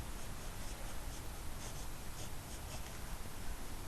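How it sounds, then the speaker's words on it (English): Pencil drawing futuristic side-view armor on paper, a close, continuous scratchy rasp of short strokes with no one talking. "I like to draw this kind of like a little spike"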